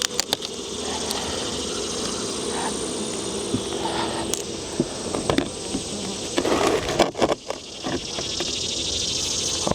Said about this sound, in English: So we're going to open this observation hive up.